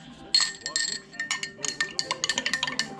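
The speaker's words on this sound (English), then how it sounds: "That's why you want to have it over a tall glass of ice." Ice clinking in a tall glass of fresh homemade grape juice, a quick run of bright close clinks and taps that speed up toward the end, with faint background noise.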